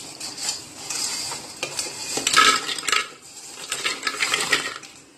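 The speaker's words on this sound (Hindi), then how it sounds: "ये बिस्किट्स हमने इसमें डाल लिए हैं ग्राइंडर में" Crunchy biscuits are dropped and shuffled into a steel mixer grinder jar, making close clattering and rattling knocks with scraping, several uneven bursts over a few seconds.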